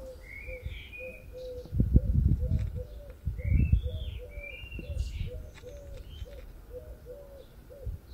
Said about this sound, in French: Alors ici, on a des merles, des mésanges, des pies, des pigeons.